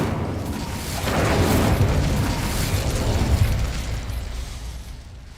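An Incendio fire spell cast in Hogwarts Legacy bursts into a loud, sustained whooshing roar that swells after a second and holds steady before slowly fading, with no voices over it.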